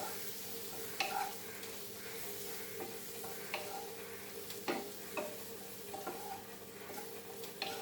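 Broccoli stir-fries with cumin powder for Goan-style cumin pepper broccoli. A soft, quiet sizzle runs throughout while a spatula taps and scrapes the pan in scattered clicks.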